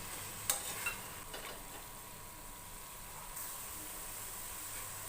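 Vegetables sizzle steadily in a pan while being stirred for a fenugreek-leaf (methi) vegetable bath, a constant soft frying hiss with a few light utensil taps near the start.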